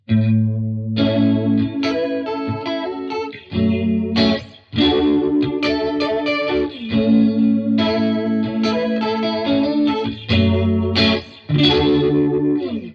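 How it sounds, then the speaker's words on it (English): An electric guitar plays chords and riffs through a sweeping, swirling 10-stage phaser pedal, loud and continuous with short pauses between phrases. "Next up, we've got a phaser effect."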